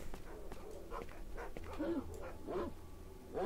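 Dogs in the S.T.A.L.K.E.R. Shadow of Chernobyl game, played with the Complete 2009 mod, yip, whimper and bark in short bursts over low ambient noise, at moderate distance.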